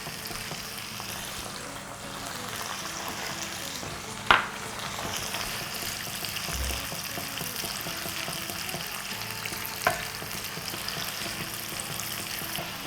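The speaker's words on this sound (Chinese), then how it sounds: "让它稍微煮一煮，熬一熬，这样的话可以把这个豆豉的味道和姜葱味道充分融合在一起" Sauce of fermented black beans, ginger and scallion with a little water simmering in a wok, a steady low bubbling hiss with two brief sharp clinks of a utensil against the pan.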